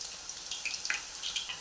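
Raw banana wafers dropped into hot oil in a kadhai give a faint, crackly frying hiss with scattered light pops over a short stretch.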